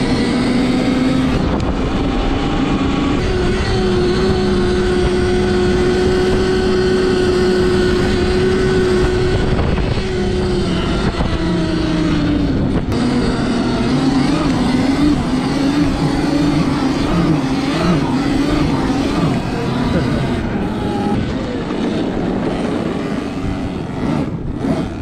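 A Sur-Ron Ultra Bee electric dirt bike fitted with a TrackNGo track riding steadily, its motor whine rising and falling in pitch under constant wind rush and rumble, loud and close throughout with no talking.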